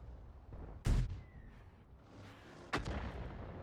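Two sharp booming cannon shots from a Lorraine 155 mle.51 in World of Tanks, the first loud and close, the second a little lighter about two seconds later, over a low rumbling background.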